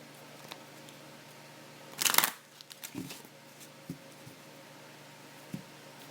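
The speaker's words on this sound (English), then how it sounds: "I'll go ahead and pull the second card." A tarot card is slid from the deck in a quiet room, making one brief papery rustle and snap, followed by a few faint soft taps.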